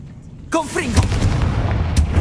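Hogwarts Legacy's Confringo blasting spell bursts with a loud, booming explosive crack right after a shouted voice, followed by a rumbling, crackling tail and a second sharp burst near the end.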